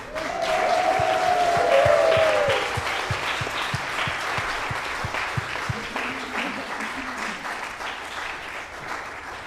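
Congregation at a Sunday worship service cheers and claps together, with a loud swell of whooping voices at the start settling into sustained rhythmic applause, a few voices calling out beneath it.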